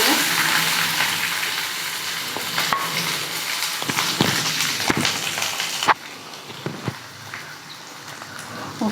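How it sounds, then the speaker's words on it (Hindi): Onions frying in oil in a hot pan for chicken changezi gravy: a steady, close sizzle with occasional stirring clinks, and a sharper jolt of spatter partway through. "इन्हें हल्का सा थोड़ा कलर चेंज होने तक फ्राई करेंगे।"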